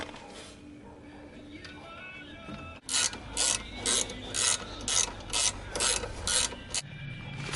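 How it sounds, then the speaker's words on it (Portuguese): A bolt on a VW Beetle brake caliper is tightened with a ratchet, giving about eight short, regular bursts of clicking after a quiet stretch of low rustling. "apertar esse parafuso"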